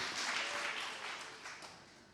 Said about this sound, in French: Oh, applaudissez-le encore pour l'encourager.